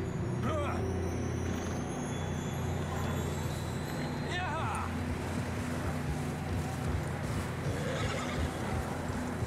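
A horse neighs a few times in the video game Red Dead Redemption 2 over a steady background of wind and rumbling, the whinnies rising and fading at moderate distance.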